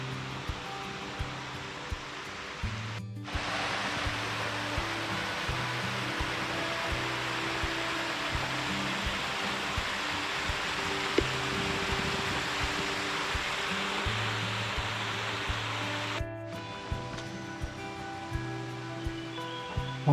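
Water pours steadily at Fairy Waterfall on a mountain trail, a broad continuous rushing that is faint and sits under background music.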